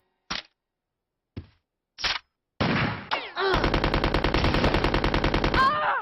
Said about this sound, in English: Wow, after all those bullets, only a single one strikes Alexia.